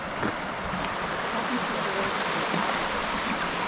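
River water flowing steadily past a campground at Capitol Reef National Park's Fruita area, a continuous broadband rush with no breaks across the whole stretch, moderately loud and close.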